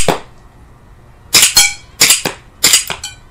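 A Tangfolio 1911 CO2 blowback airgun pistol fires about seven close, snappy pops, mostly in quick pairs with short pauses between them, with no talking.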